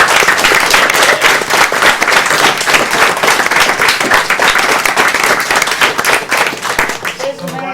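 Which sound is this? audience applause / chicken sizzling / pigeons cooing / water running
audience applause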